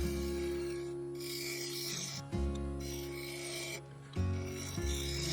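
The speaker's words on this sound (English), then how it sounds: "Using the bowl gouge, I started to form an OG shape, curving round and up from the resin into a flatter vertical top part" A bowl gouge cuts into a spinning ash and epoxy resin bowl on a lathe, giving a steady rasping scrape over the lathe's constant motor hum, with the cut breaking off and restarting a few times.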